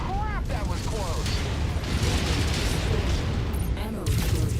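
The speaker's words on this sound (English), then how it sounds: "Ammo explosion detected." Ammo explosion in the MechWarrior 5 video game: dense, sustained booming and crackling blasts with mechanical clatter fill the whole stretch, loud and close, with a voice talking over parts of it.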